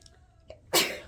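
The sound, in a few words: sneeze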